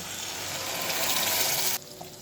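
Ridge gourd paste hits a pan of frying garlic and onion with a loud, broad hiss that holds steady for about two seconds, then drops abruptly to a quieter simmer.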